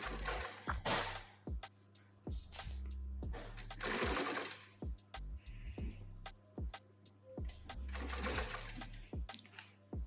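A walking foot sewing machine stitches fabric for a luxury stuffed toy, running in loud bursts of rapid mechanical chatter with short pauses between runs.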